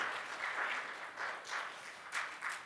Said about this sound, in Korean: 우리 한번 감사의 박수 올리면 좋겠습니다.